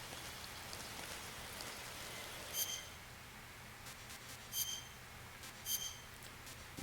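Steady rain hiss with a low rumble underneath in a Metal Gear Solid 3 rainstorm, broken by three brief bright pings spaced a second or two apart.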